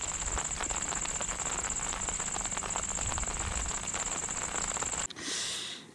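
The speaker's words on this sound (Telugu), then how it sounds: "ఇలా చూడండి వర్షం కంటిన్యూగా పడుతూనే ఉంది" Rain falling without pause on a night campsite during heavy rain, a dense crackling patter on nearby surfaces with a steady high whine, cutting to a short muffled rush near the end.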